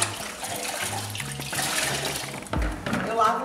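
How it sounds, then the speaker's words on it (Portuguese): Tie-dyed T-shirt rinsed by hand in a basin, water sloshing and splashing near the microphone, with a louder splash toward the end and someone speaking over it. "Eu lavo bem, ó, a água ficou bem azul"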